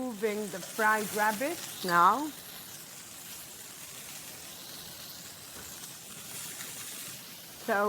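Rabbit frying in a pan in a Maltese kitchen, a soft, steady sizzle heard close and fairly quiet, with a voice talking over the start before the frying continues alone.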